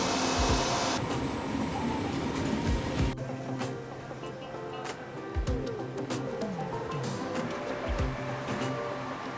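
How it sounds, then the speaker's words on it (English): Inside an intercity passenger train carriage travelling from Italy toward Switzerland: a steady, moderately loud rolling rumble with scattered rattles and track clicks, no voices. "One thing I noticed right away is that this is a more normal volume for a train."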